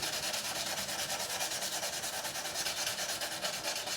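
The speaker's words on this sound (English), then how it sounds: "So this is 400 grit, just to get rid of some of the deeper scratches on the top." Fine 400-grit sandpaper rubs over the frets of a Harley Benton 35 Plus in quick, even back-and-forth strokes. The soft, steady scratchy hiss is close and fairly quiet, with no voice.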